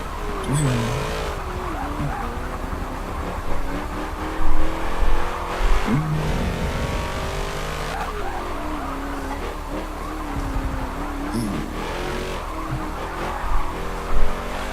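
Race car lapping Virginia Raceway in the Forza 7 racing game, its engine droning loudly and steadily with shifting pitch through corners and brief tire squeals, no talk over it.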